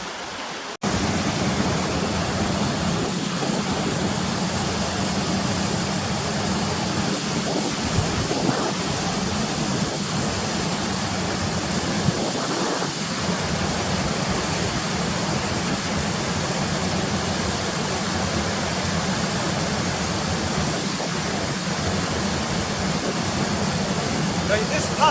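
A waterfall roars as a steady, broadband rush of water that holds for the whole stretch, with faint wind and small handling bumps on top.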